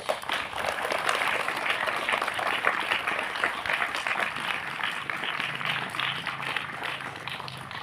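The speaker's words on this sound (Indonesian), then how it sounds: "Mana tepuk tangannya?" An audience at a foundation chairman's address claps steadily and continuously, a moderately loud, even patter of many hands with no talking over it.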